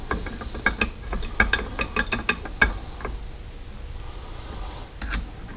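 A ratchet wrench clicks in quick, uneven bursts at close range while a triple tree is installed on a 1981 Harley-Davidson FXS Low Rider motorcycle, then goes quiet with faint handling noise.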